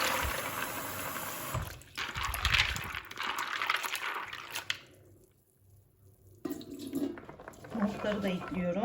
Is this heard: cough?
no